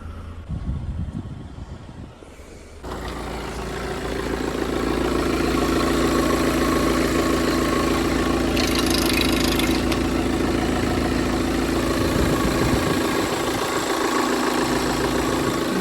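A Volkswagen Tiguan engine idles close up with a steady, even mechanical drone and a faint ticking texture. It settles in after an uneven start with a brief lull at the beginning.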